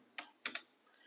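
A few quiet, close keystrokes sound on a computer keyboard as a name is typed into a Python program: a single tap, then two quick clicks in succession, with no talking.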